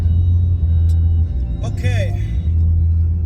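A car drives along on a steady low engine and road rumble that holds throughout, with a person speaking briefly over it.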